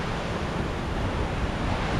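Storm surge water from a hurricane washing and surging in a steady, broadband roar, close and continuous with gusty wind across the microphone, no talking.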